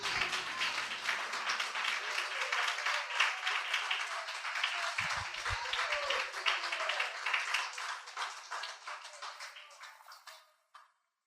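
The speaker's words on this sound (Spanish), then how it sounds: "Dele un fuerte aplauso al Rey." Loud, sustained applause from a church congregation, dense clapping filling the whole stretch with a few cheers mixed in, then fading to silence at the end.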